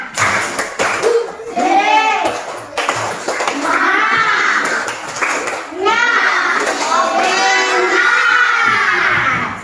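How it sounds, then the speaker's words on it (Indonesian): A group of schoolchildren in a classroom, led by their teacher, performs a rhythmic spirit clap, clapping in patterned beats while chanting together loudly and close up throughout. "Tepuk semangat."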